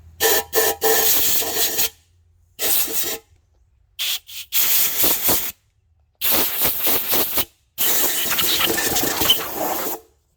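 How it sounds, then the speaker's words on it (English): Compressed air hisses and rushes in several long, rough bursts through an engine block's cooling passages, the tone shifting and sputtering as it forces through, close by and loud. "You can hear the tone change, so you know where the air is going in the cooling system."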